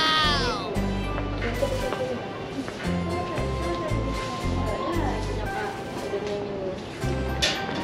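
A cat meows repeatedly, with a drawn-out wailing call at the start and more meows through the clip, mixed with background chatter and low rumbling noise.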